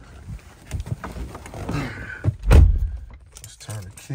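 Car keys for a Duramax truck with an Allison transmission jangle and clink in irregular bursts, close by, alongside rustling and a louder thump midway. There is low talk in the background.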